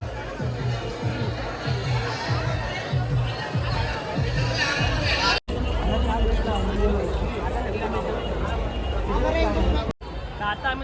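Large, dense crowd at the Ekvira palkhi procession in Kalyan Koliwada, a steady babble of many voices close around with shuffling and movement, interrupted by two abrupt cuts.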